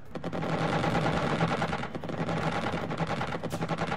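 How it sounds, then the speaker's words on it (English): Missile fire in the Xenonauts strategy game comes as a dense, loud rattling burst of rapid shots, continuous across the moment with a short dip midway. "we shoot our other missile"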